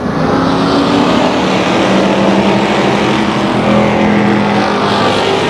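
Pro Stock race cars roaring around Tucson Speedway, a dense, loud, continuous engine drone from several cars together with no distinct passes.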